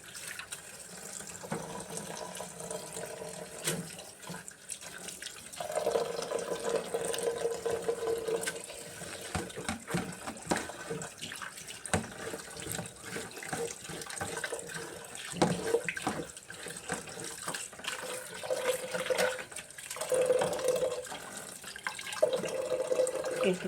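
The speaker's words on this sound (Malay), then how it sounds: "Kita masukkan air, lepas tu nanti kita masukkan tubuk" Water runs from a tap into a cooking pot for boiling bamboo shoots, a steady splashing stream with clattering handling sounds and changing tone as the pot fills.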